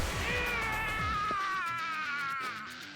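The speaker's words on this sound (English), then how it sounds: "if you hear some cat screaming, it's literally just Marnie being a cat" A house cat named Marnie lets out a long, wavering, high-pitched yowl close by, the drawn-out scream bending in pitch before trailing off, with faint clatter and game sounds underneath.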